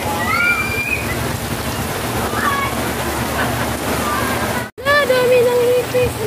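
Heavy rain pours into rising flood water, a dense steady wash of rushing, sloshing water throughout. Voices speak and call out over the roar, with a brief dropout near the end.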